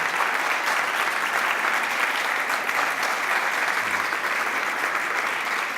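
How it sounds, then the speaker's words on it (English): Steady applause from an audience at an equality forum event, sustained and fairly loud throughout with no break or talking over it. "So please give him a round of applause."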